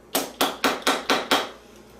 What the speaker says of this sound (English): I get my rawhide mallet and just tap the edges